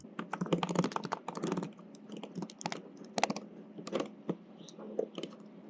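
Quick, steady clacking of a computer keyboard as Java code is typed, dense runs of keystrokes with short pauses, close and clear with no talking.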